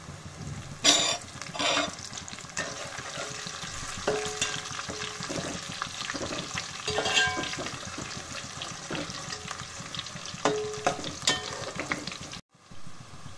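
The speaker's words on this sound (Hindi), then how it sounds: "अभी इसमें करी पत्ता, सूखी मिर्ची डाल लेती हूँ मैं।" Curry leaves and dried red chillies fry in hot oil, a close, steady crackling sizzle punctuated by spoon stirs and a few sharper spatters, continuous until a brief cut near the end.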